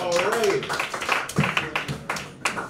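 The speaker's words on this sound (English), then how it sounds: "Give a round of applause, everybody." Comedy club audience in Richmond, Virginia clapping after a stand-up set, scattered applause and a few sharp claps beneath the host's voice.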